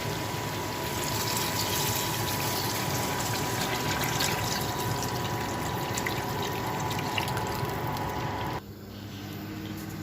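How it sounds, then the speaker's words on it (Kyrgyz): Water pours steadily into a pot of carrots while Kyrgyz plov cooks, a continuous close splashing gush lasting about eight seconds before it abruptly softens and quiets. "Эми сууну куябыз."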